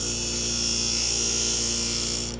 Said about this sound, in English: I will have to grind down these screws because they're too long